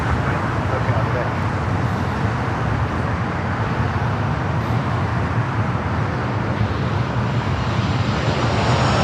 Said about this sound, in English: Southwest flight coming in from San Jose, California,